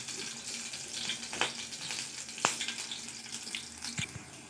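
Green chillies fry lightly in a kadhai with a faint, steady hiss and crackle, broken by a few sharp pops and splatters.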